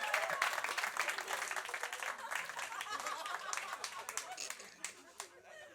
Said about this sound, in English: Can you have a round of applause for Ba, everybody?